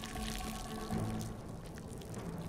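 Water runs from a turned-on tap in the stealth video game Hitman, a low, steady rushing pour that holds throughout, fairly faint under a busy game background.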